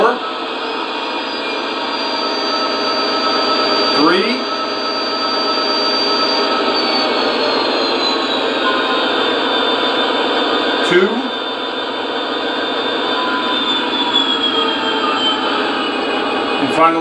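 An SD80MAC model locomotive's diesel engine sound drones steadily and steps down in pitch twice as the RPMs wind back toward idle, heard alone and close.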